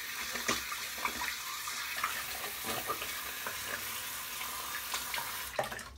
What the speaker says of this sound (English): Sorry about that, all the sound of the water.